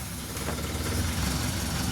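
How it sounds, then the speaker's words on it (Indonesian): Old non-injection carburetted car engine idling steadily on its own after starting, a continuous low rumble with slight vibration, close and alone. "Setelah mesin hidup, biarkan mobil hidup sendiri dengan normal."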